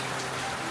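Rain patters as a dense, even hiss, faint and continuous, at a village home in the Konkan region.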